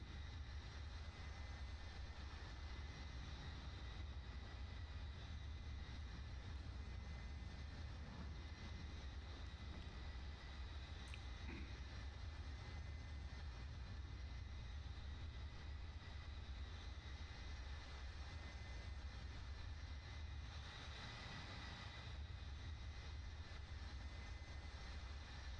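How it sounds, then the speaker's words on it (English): An F-35 jet engine in Microsoft Flight Simulator gives off a steady, faint, continuous roar with a broad hiss, holding an even level with a slight swell near the end. "Oh, I love the sound of that F-35."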